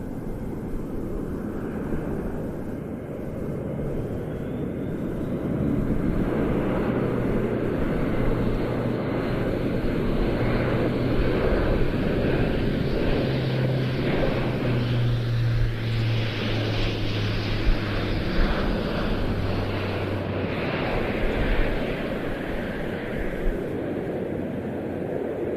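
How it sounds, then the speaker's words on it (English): An Airbus A400M Atlas turboprop military transport flies a tactical demonstration at an air show, its propeller engines droning loud and steady for the whole stretch as the pitch slowly rises and falls while it passes. "What we're seeing here is something of a tactical demonstration. The aircraft is seeking out a drop zone over which it will airdrop supplies."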